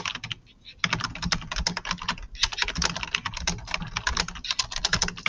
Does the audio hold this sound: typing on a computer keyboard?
yes